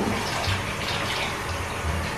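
Bath water sloshes and splashes steadily and close by as a toddler is bathed in hot water, a continuous wash of water noise with no talking.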